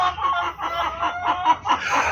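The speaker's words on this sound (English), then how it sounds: "I am going to be cleaning out the chicken coop, which they do not seem to approve of." Backyard coop chickens cluck steadily and close by in a continuous, slightly agitated chorus of short repeated calls, with no talking.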